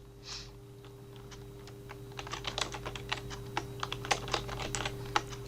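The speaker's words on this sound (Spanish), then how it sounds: "estoy apretando el tabulador, ya que si aprieto Enter voy para abajo" The Tab key and other keys on a computer keyboard are pressed during spreadsheet data entry. The clicks are quiet and close, coming in a quick irregular series over a low hum.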